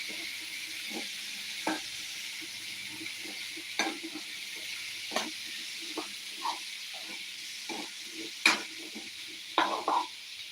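Chickpea curry for appam being stirred in a pan over a soft, constant sizzle, with scattered scrapes and knocks of the spoon against the pan at irregular intervals.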